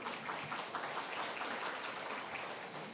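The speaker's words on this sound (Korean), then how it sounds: "박수까지." Audience applause at a company session of a job-training program briefing, a moderately quiet burst of many hands clapping steadily for a few seconds with no voices over it.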